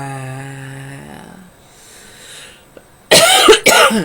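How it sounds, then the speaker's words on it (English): A sustained hum fades into breathy quiet, then two loud, close throat-clearing coughs burst out in quick succession at the end. "So you may need to clear your throat"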